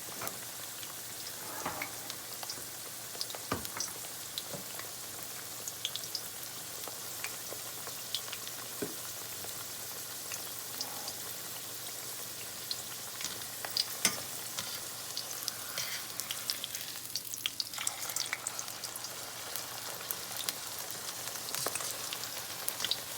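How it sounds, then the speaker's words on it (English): Scallion pancake frying in very hot oil gives a steady, close crackling sizzle with scattered pops and spits that runs for the whole stretch, with no voices. "Let it fry nicely. And make sure your oil is very hot."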